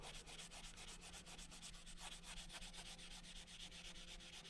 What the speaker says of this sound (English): I'm sanding it all off.